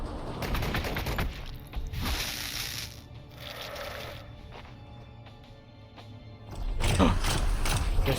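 Ork big guns firing in Warhammer 40K Gladius Relics of War, heavy booming artillery blasts with mechanical grinding, a loud burst at the start, another around the middle and a final roaring volley at the end.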